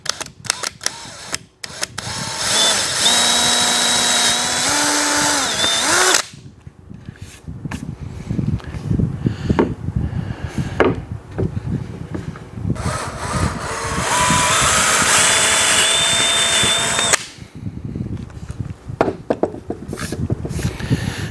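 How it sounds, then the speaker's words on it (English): A power drill bores into wood for a DIY kitchen island in two separate bursts, each whine spinning up and rising in pitch, separated by clunky handling and scraping noises in between. "All right, now we're ready to drill."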